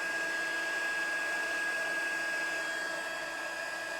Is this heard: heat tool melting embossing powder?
yes